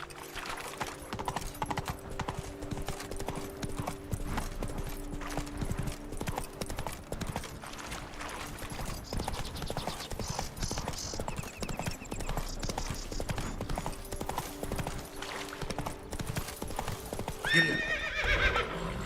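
Horse in The Witcher 3 game trots with continuous rhythmic clip-clopping hooves throughout, then gives a brief whinny near the end, fairly close and steady.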